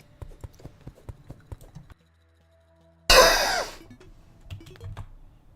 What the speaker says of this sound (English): I accidentally unmuted halfway through that cough.